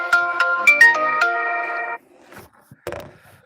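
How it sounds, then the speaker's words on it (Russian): A phone rings with a bright, tonal electronic melody for about two seconds, then a few faint clicks and a short noise follow. "Короче, телефон, ребят, разрывается. Там звонят, тут пишут."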